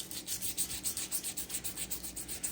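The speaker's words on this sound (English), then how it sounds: "Just kind of like want to scrape it a little bit, right?" A bell pepper's skin is scraped lightly to roughen it while steak kabobs are prepared. Soft, rhythmic rasping strokes repeat steadily at close range, faint and with no voices.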